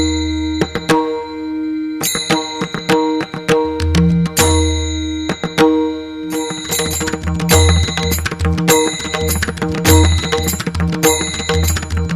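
Bright, ringing bell tones chime repeatedly in quick succession, loud and clear, layered over a steady low hum.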